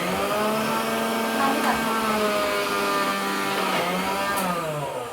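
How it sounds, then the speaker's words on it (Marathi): A kitchen mixer grinder whirs steadily as it coarsely grinds cumin seeds and chillies for crushed lemon pickle, a loud continuous motor whine with a faint change in pitch as the contents shift. "तर आता हे जिरं आणि हे मिरची हे मिक्सरला फिरवून घेणार."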